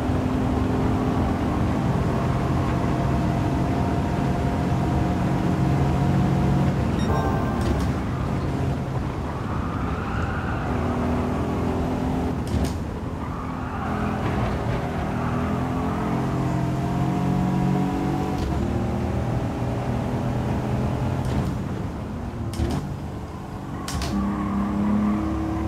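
Aston Martin race car engine in Gran Turismo 7 at Goodwood Circuit, revving and shifting through gears with rising and falling engine tones and sharp shift blips, steady and loud throughout.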